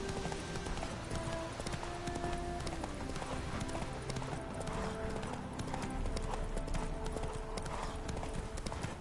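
A horse trots in the video game The Witcher 3: Wild Hunt, its hooves making a steady, rhythmic clip-clop that continues throughout, fairly quiet and close, with someone talking over it.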